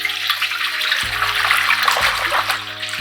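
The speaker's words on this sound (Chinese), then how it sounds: "锅中要倒入足够多的水哦" Water pours in a steady, close, loud rush into a pot for steaming red yeast rice cakes, splashing continuously without pause for about three seconds.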